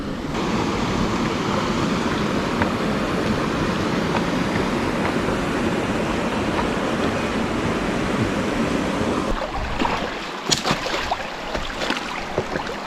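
Waterfall pouring over bedrock in a gold-prospecting creek, a loud, continuous broadband rush of falling water close by, steady for about nine seconds before thinning out into sparser splashing and trickling.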